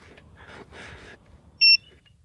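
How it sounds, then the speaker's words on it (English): A single short electronic beep from an item tracker tag, high and clean, sounds after some faint muffled rustling in an otherwise quiet room. "When you go closer, it beeps."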